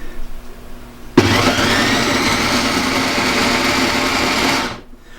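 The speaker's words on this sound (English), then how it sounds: "now we're going to process our soup in our food processor" A food processor blitzing creamy asparagus soup: the motor kicks in abruptly and runs as a loud steady whirring churn for about three and a half seconds, then winds down to silence, with no talking.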